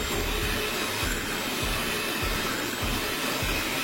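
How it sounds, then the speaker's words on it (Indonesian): An electric mixer whips cake batter ingredients until thick and pale, giving a steady, loud, continuous motor whir with a faint rhythmic pulsing throughout. "Kemudian keempat bahan ini dimixer sampai mengembang putih kental berjejak selama 7-10 menit"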